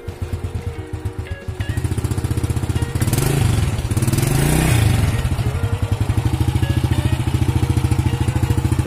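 A 1990s Honda Astrea Grand motorcycle engine idles up close, loud and steady with a rapid even putter, briefly revving up in the middle before settling back to a regular idle.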